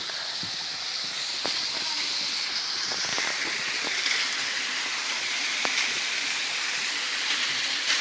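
Steady rushing water from a waterfall in Truskavets, Ukraine roars continuously, a broad hiss with occasional faint clicks and knocks over it, no voices.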